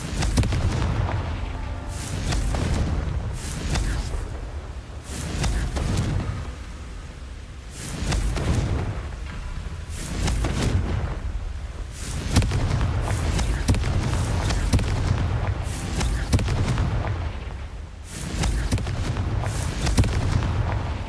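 Repeated Confringo fire spell blasts from Hogwarts Legacy, booming explosions going off one after another every couple of seconds across the stretch, loud, close and heavy with low rumble.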